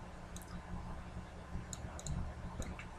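Several quick, faint clicks of a computer mouse spaced irregularly across a few seconds of photo-retouching work, light and close over a low background hum.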